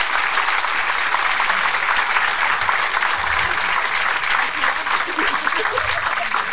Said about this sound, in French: On peut se l'applaudir très très fort.